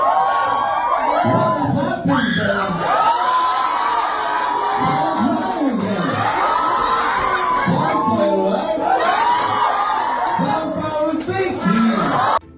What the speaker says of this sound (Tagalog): todo hiyawan naman ng fans